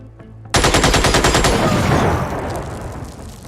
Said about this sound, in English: Basically, laser machine gun.